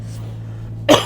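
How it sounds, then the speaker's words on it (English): A single short, sharp cough from a woman close to the microphone, breaking a quiet stretch with a low steady hum underneath. "I'm coughing."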